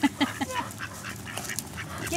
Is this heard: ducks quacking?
yes